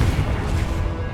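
A Confringo blasting spell cast in Hogwarts Legacy, a loud, dense, roaring burst of explosive noise that fills the whole moment with steady, rumbling force.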